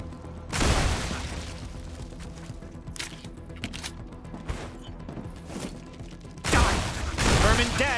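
Gunfire from a pistol-like weapon in the video game Star Rupture, a series of sharp shots and impacts over a busy game soundscape, with a couple of louder bursts.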